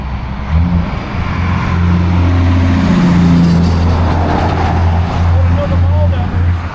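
A vehicle approaches to pick up a group at a spot holding a 1960s military crane, its steady engine rumble building and holding loud under a voice.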